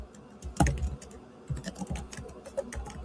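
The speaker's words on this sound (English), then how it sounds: "Sorry if it's really loud when I'm typing." Rapid clicking keystrokes on a computer keyboard, irregular bursts of taps close to the mic, with a louder clack near the start.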